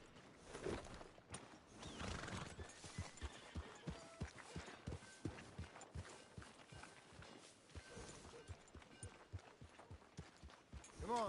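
A horse's hooves clip-clop in an irregular walking rhythm, fairly close, with occasional snorts and movement noises but no clear neigh.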